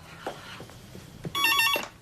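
A telephone bell rings in a single short burst of bright, trilling tone, preceded by quiet rustling and movement in a domestic setting from a 2014 Coronation Street scene.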